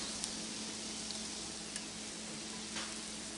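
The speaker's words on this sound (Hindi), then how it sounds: "इनको जो है डीप फ्राई नहीं करना, इनको शैलो फ्राई करना है।" Mutton shami kebabs shallow frying in oil, a steady close sizzle with soft crackles and a few brief pops throughout, no voices.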